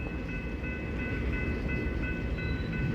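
Freight trains on railway tracks near North Platte, a continuous low rumble of rolling cars with steady wheel and brake squeals ringing over it, close and unbroken.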